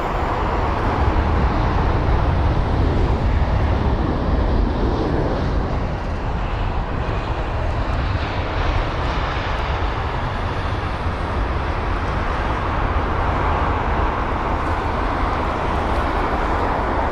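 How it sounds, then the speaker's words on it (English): A Qatar Airways Airbus A380 arriving at London Heathrow, a loud, broad jet roar rumbling steadily at low pitch for many seconds with no voices, the wash of noise slowly shifting as the aircraft passes. "So the Qatar A380 is up next"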